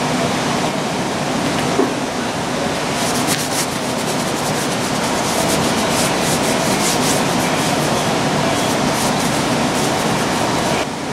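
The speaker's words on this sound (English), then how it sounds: "first thing we're going to do is wash it with alcohol to get the surface pretty much spotless" A short ram intake manifold wiped clean with alcohol, heard as continuous loud close rubbing and scrubbing strokes that become busier and more textured in the second half, with no voice.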